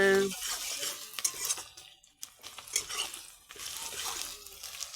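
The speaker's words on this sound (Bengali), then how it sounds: "এই যে পেঁয়াজটা ভাইজে নিছি, হালকা লাল লাল করে ভাইজে নিও।" Onions fry in a pan while a utensil scrapes and stirs them, giving a steady soft sizzle broken by clinks and scraping strokes at close range.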